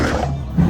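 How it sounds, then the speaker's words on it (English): A short, loud roar from a dinosaur in the video game Dinosaur Simulator, a rough low growl lasting under a second that swells toward the end. "Now let's hear the sound effects, starting with the roar."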